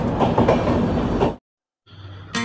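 The 12369 Kumbha Express passenger train runs on rails out of Howrah, giving a rumbling clatter that cuts to sudden silence midway, then returns faintly before a brief loud burst at the end.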